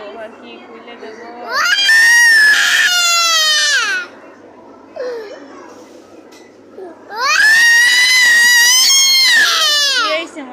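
A distressed child cries in loud, wailing bursts, two long sobbing episodes separated by quieter whimpers, with an adult voice softly soothing in between.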